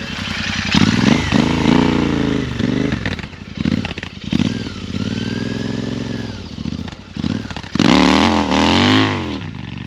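A Royal Enfield Interceptor motorcycle is ridden close by, its engine loud and throbbing through rising and falling revs, with gear changes and a hard surge of acceleration near the end.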